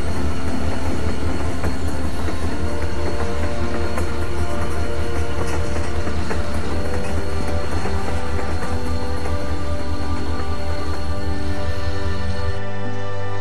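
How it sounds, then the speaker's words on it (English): A train rumbles along in The Walking Dead video game, a loud, steady low roar with faint rhythmic clatter of wheels, close and continuous until it fades at the end. "The train's gonna be moving."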